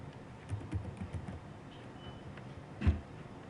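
An email address is typed on a computer keyboard, a faint, scattered patter of close key taps ending with one firmer press, with no talking.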